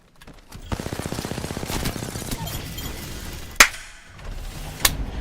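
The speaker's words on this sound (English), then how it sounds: "They're shooting at me." Rapid automatic gunfire rattles out in a fast even burst during a video game match, followed by a couple of sharp isolated bangs and cracks, loud and close with no talk.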